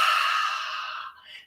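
A single long, audible open-mouthed "ha" breath exhalation in yoga practice, breathy and close, fading out over about a second and a half.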